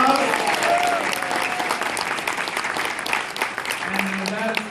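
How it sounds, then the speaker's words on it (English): Audience applause at a Nevada State Democratic Party convention, a steady dense clapping from a large crowd lasting the whole stretch, loud and close, with a voice briefly audible beneath it. "Let's give her a round of applause."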